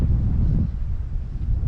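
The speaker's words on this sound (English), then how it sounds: "Here comes the invading mist with a gust of wind." A wind gust rushes through misty mountain terrain on a trail, a loud low buffeting roar against the microphone that eases slightly partway through.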